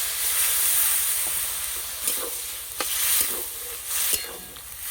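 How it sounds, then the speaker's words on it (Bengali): Water poured into a sizzling chickpea and potato curry cooked with spices, giving a loud, steady close hiss and bubbling sizzle with a few sharper stirring scrapes, no talking. "মশলার সঙ্গে ছোলা আলু ভালো করে কষিয়ে নিয়েছি, এবার জল দেব।"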